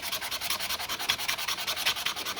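A metal weld bead is hand-sanded with 220-grit sandpaper in a steady, quick back-and-forth rubbing rhythm, close and fairly quiet.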